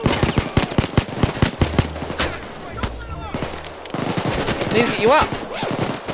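Rapid gunfire rattles through a virtual reality shooter game in quick repeated bursts of sharp shots, close and loud, with players talking over the shooting.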